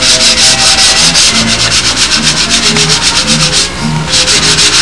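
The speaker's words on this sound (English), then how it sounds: "Just try to get all the seams sanded out." Balsa wood sheets from United Balsa are sanded along their seams with continuous, loud, rhythmic back-and-forth rubbing strokes close up, and a brief lull partway through.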